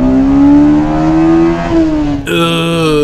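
A VTEC car engine revs loud and close, climbing steadily in pitch, then a sudden jump to a higher, harsher wail as it pulls through the next gear.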